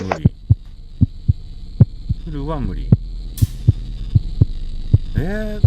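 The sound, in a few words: heartbeat sound effect in horror video game The Cat Lady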